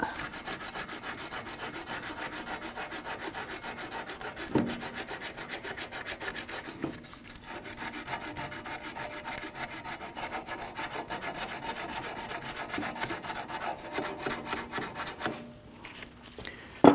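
Steady, rhythmic rubbing and scraping of a sanding disc against a Ford Taurus front wheel hub assembly, fairly quiet and close, continuing for a long stretch with a few brief knocks.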